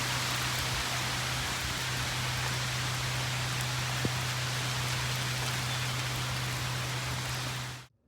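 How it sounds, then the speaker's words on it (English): Steady rain falls in typical British weather with sunshine at the same time, a dense, even hiss throughout with a low constant hum beneath and one faint tick midway, ending abruptly. "Enjoy some typical sort of British weather of sunshine and rain all at the same time."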